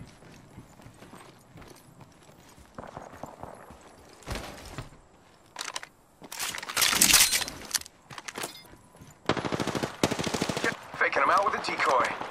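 Gunfire in the battle royale shooter Apex Legends, bursts of automatic fire and single shots in clustered volleys that come and go amid footsteps and game effects, with players talking over parts of it.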